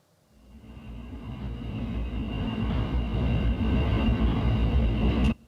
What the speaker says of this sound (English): I was sitting at a railway crossing, and there was this big like coal train going past